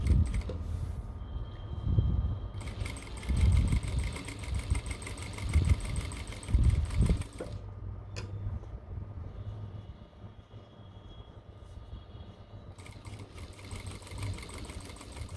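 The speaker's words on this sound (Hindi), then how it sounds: "पहले हम इसके ऊपर एक सिलाई लगा लेते हैं" A sewing machine stitching cargo pants fabric runs in rapid, rattling bursts separated by short pauses, fairly close and steady, with no one talking.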